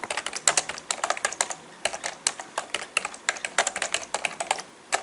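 Rapid, irregular clicking of keys on a computer keyboard, close and fairly soft, with steady bursts of keystrokes and no voices.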